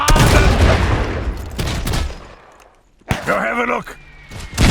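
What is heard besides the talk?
gunfire in the video game Iron Harvest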